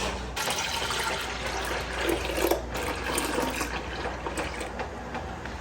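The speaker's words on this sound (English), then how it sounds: "I'm going to pour this into the pot and just get this pot on low." Homemade grape juice from backyard grapes is poured into a cooking pot, making a steady, continuous liquid splash and gurgle that runs the whole time with no talking.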